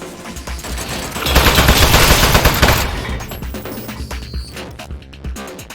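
A turret opens fire in the video game Aperture Desk Job, a loud sustained burst of rapid machine-gun shots that swells, then tapers into scattered clatter.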